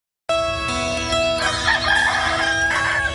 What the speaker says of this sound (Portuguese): Acordar com os galos